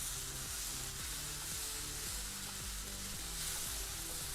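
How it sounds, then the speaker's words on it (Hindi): Masala frying in a pan for beef lasagna gives a faint, continuous sizzle under a broad steady hiss, with no voices. "अब इसको हमने मसाले को ज़रा सा भूनना है अच्छे से"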